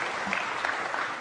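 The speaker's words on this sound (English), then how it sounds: "Muted applause for that." Brief, muted audience applause at a talk, a soft, even patter of scattered hands lasting about a second.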